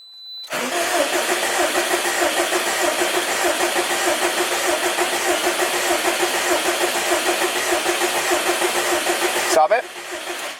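Subaru STi engine cranking and catching, then settling into a steady rumbling idle close by, cut off abruptly near the end.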